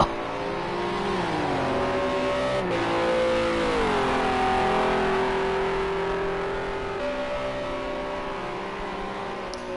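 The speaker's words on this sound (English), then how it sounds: "Gonna hear the lovely V8 engines here of the Renault S's" Renault RS01 race cars with V8 engines lapping Bathurst in Project Cars 2, a loud, sustained engine note that rises and falls through gear changes and revs, with a pitch dip and recovery midway, heard alone without talk.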